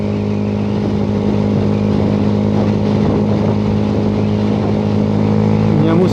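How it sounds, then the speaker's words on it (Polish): Steady engine rumble of a 125 cc motorcycle squeezing through city traffic, a continuous loud hum under someone speaking throughout. "mam dość zgrabny motocykl mogę się przeciskać"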